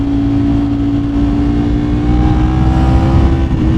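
A 2025 Ducati Panigale V4 superbike pulls hard on a highway, its engine a loud, steady, close-up roar that keeps rising in pitch as the revs climb, with no voices over it.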